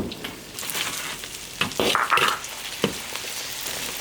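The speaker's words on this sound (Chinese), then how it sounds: "起锅烧油， 把肉炒一下" Pork sizzles in rendered lard in an iron wok, a steady close crackle with louder bursts of spitting and stirring scrapes as the meat is tossed.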